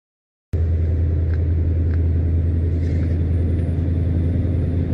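Heavy truck rolling along a road on cruise control, a steady loud low engine and road rumble filling the whole stretch after a sudden start, with faint higher tones on top and no talking.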